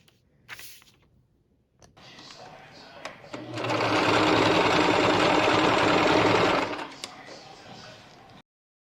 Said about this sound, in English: So right now on my sewing machine, I will join both sides from arm to waist